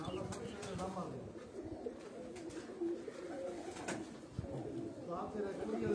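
English pigeons coo softly in repeated low, throaty calls amid general loft ambience, with faint voices murmuring in the background.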